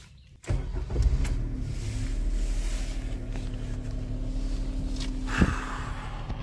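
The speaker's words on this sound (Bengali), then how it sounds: "ইঞ্জিন কেবিন নয়েজ কতটা আসে সেটা" Inside the cabin of a brand-new Maruti Suzuki S-Presso, the engine gives a steady, moderately loud low drone after a quick rise at the start, with one brief bump near the end and no talking.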